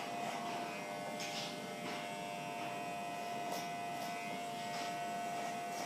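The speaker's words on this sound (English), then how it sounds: "clipper over comb, taking the hair a little shorter, sides then back" An electric hair clipper cuts hair with the clipper-over-comb technique on the sides then back, giving a steady close buzz with a constant mains-like hum and small repeated scraping bursts as it passes through the hair.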